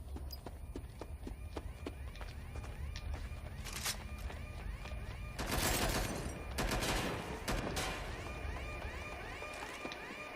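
Gunfire in the video game Watch Dogs Legion crackles as rapid bursts of shots, loudest in a few volleys mid-way, set against a steady background of game ambience and movement.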